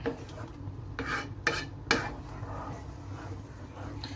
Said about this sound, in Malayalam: നമുക്ക് നന്നായിട്ടൊന്ന് ഇളക്കി ഒന്ന് യോജിപ്പിക്കാം